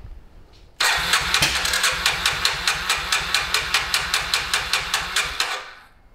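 A long-unused motorcycle engine cranks rapidly with an even, rhythmic chugging for several seconds, loud and close, then cuts out abruptly with a sharp backfire pop along the way.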